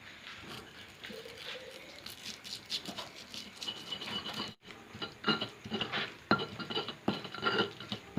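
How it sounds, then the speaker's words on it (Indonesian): Seasoning and salt being ground in an Indonesian ulekan mortar and pestle, with close, irregular rattling, scraping and clinking strokes that continue steadily and are briefly interrupted midway. "kita ulek dulu ya teman-teman"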